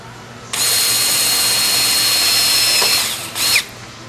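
A power drill driving self-drilling hex head screws metal to metal while mounting a solar hot water tank, heard as one sustained high whine of about two and a half seconds, then a short second burst, close and loud.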